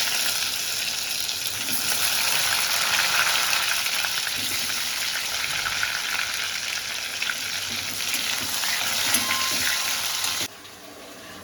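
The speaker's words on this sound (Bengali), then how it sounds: "আলুগুলো আমি ভেজে নিচ্ছি।" Potatoes frying in a little hot oil in a kadai, a continuous close sizzle and crackle that runs evenly for about ten seconds, then drops away to quieter background, with no talk.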